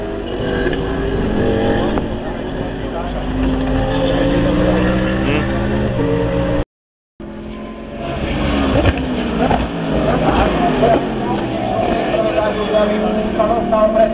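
Porsche GT race car on the Slovakia Ring circuit during an FIA GT race, engine droning and revving steadily throughout under continuous commentary, with a brief dropout midway.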